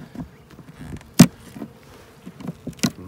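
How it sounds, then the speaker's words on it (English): Honeybees buzz faintly near a hive during an early-season hive inspection, with a sharp knock and scattered short clicks and thumps breaking the low drone. "there are a few more bees coming out of here"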